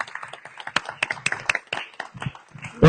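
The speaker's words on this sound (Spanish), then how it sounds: "Un aplauso para ellos, por favor." Scattered audience clapping at a book presentation in Chiapas, a modest crowd with sharp individual claps rising and thinning unevenly, fairly close, fading toward the end.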